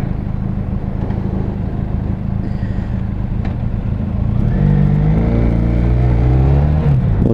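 A motorcycle engine on a test ride idles and then accelerates, its loud, steady drone rising in pitch as the revs climb toward the end.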